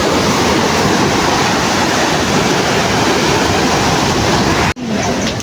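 Sea waves breaking on a beach, a loud, constant roar of surf mixed with wind buffeting the microphone, cut by a brief dropout near the end, with no clear voices.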